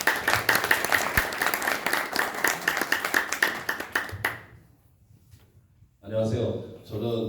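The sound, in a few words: audience applause at a forum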